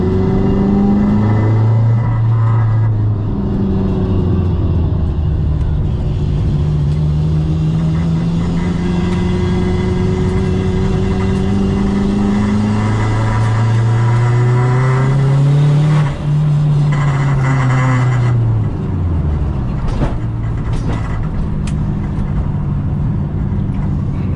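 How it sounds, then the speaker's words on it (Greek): A turbocharged BMW 318ti on a race track with new tyres, heard from inside: loud, continuous engine drone climbing and dropping in pitch through repeated revs and gear changes, with no talking. "Και επιτέλους δοκιμάζω το αυτοκίνητο μόνος μου."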